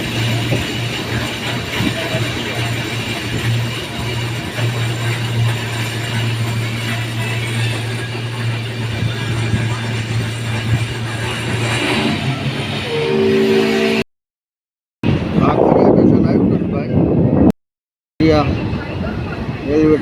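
Train moving near a railway station in the rain, with steady rumbling and grinding mechanical rattling up close, voices talking over it, then brief cut-outs near the end.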